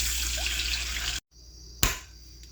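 Water pours into a pot of ramen broth with tomato paste and chicken bouillon, a splashy rush that cuts off abruptly, followed by a short sharp knock and a fainter trickle.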